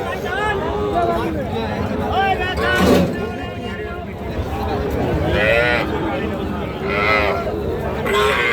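Cattle and calves moo repeatedly at a cattle market, some calls higher from the calves, over a busy outdoor crowd with people talking throughout.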